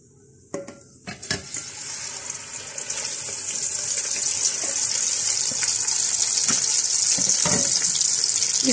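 Ground chana dal hits hot ghee or oil with cardamom in a pan for halwa: a couple of clunks, then a loud, close sizzle that swells and holds as a steady frying hiss.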